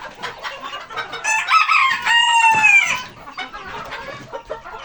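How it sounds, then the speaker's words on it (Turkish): Chickens, including an Indian hen, cluck in short bursts in a coop while a rooster lets out a loud, drawn-out crow in the middle, with more clucking afterward. "Bir tane de burada Hint tavuğum var."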